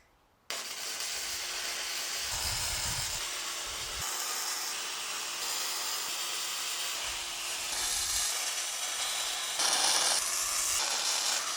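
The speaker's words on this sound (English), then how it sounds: "I'm just going to go around and tack opposite corners on the inside and outside" Welder tacking the inside and outside corners of a 3 x 10 ft steel welding table, a steady loud crackling hiss running almost unbroken after a brief quiet start, with a slightly louder surge near the end.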